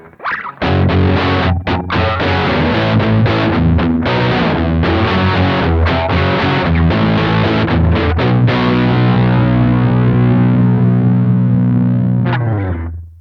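Electric guitar through a Beetronics delay pedal set to very short time, low feedback and high modulation: warbling, wobbling, chorus-like shimmer, played loud and continuous, then a final chord left ringing out and cut off.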